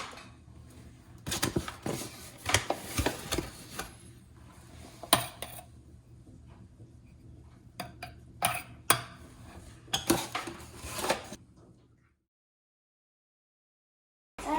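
Measuring cups clatter and scrape against a flour container while flour is scooped for a pumpkin pie butter crust, bursts of knocks and taps spread out over several seconds before falling silent.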